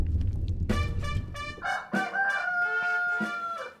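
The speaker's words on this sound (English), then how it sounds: "It's feeding time for the chickens." Chickens cluck and crow at feeding time on a farm, with several overlapping calls. Strong, sustained tonal crowing starts partway through and carries to the end, close and loud, with no talk.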